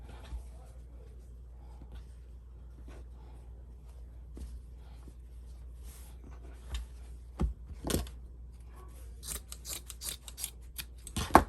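Scissors cut fabric into long strips for a scrub cap's ties, making quiet intermittent snips and rustling of cloth close by, growing louder and busier toward the end, with no talking.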